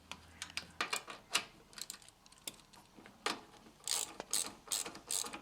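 Quick ratcheting clicks and metallic taps as bolts are fitted and snugged by hand on the steering gear of a Porsche 944, close and intermittent in short bursts with quiet gaps between.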